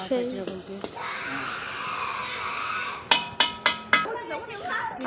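Meat curry cooks in a pot, a soft steady sizzle with stirring, then a run of sharp metallic clinks from a spoon against the pot, with voices talking at the start and end.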